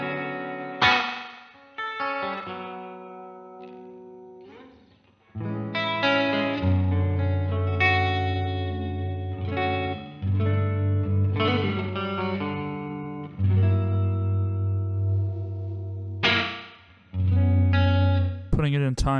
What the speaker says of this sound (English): very bizarre spring reverb.